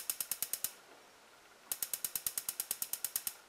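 Red igniter button on a Coleman NorthStar 220 W gasoline lantern pressed repeatedly, giving a quick, even run of close, crisp ticking clicks, then a pause, then a longer run of clicks.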